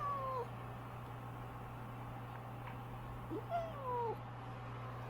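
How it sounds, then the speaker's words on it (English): A cat meows a few times over a steady low electrical hum, the calls short and clear with quiet gaps between them and no one speaking. "He's got very cute meows."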